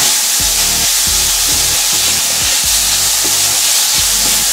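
Food left to cook in a pan, a loud, continuous close-up sizzle and hiss with faint bubbling pops repeating underneath, and nobody talking.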